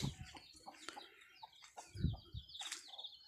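Chickens outdoors on a rural Thai morning, giving scattered soft clucks and a few higher calls at a moderate distance, quiet and intermittent, with no talk.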